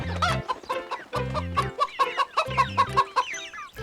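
Cartoon hen clucking in quick repeated bursts, the clucks close and lively over a bouncy musical backing.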